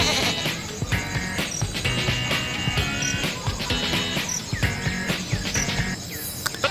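Animal bleating, goat-like, repeated over a busy, noisy background with chirping insects and clatter throughout.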